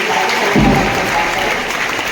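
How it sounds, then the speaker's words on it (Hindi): A crowd claps at a school annual sports day, a loud, dense wash of applause with a low thump near the start, continuous for the whole stretch. "सलमान जोरदार तालियों से अपनी"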